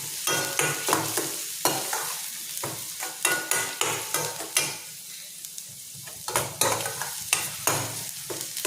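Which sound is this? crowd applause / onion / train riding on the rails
onion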